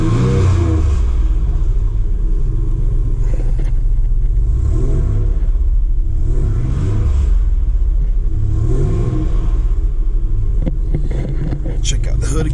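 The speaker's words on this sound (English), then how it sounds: "I do like the exhaust note on this car." A 1985 car with dual exhaust pipes revving, its deep low rumble swelling and easing in repeated surges, fairly loud and near, with people talking over the engine throughout.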